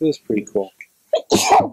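A single sharp sneeze bursts out right after a short stretch of casual talk, loud and close to the microphone.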